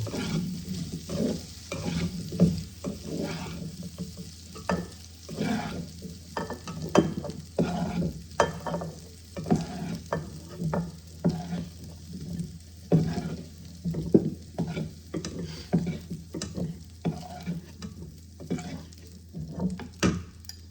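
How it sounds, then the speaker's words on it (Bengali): Small potatoes fry in oil for an egg aloo masala curry, a quiet close sizzle broken by repeated soft stirring and scraping strokes in an uneven rhythm, with no talking. "ছোট আলুগুলো আমার ভেজে নেওয়া হয়ে গেছে, আমি এগুলোকে এবার তুলে নেব।"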